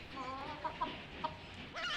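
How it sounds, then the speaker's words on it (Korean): A chicken clucks in short, scattered calls over a steady background hum, with a few brief louder bursts. "자꾸만 울어대는 닭."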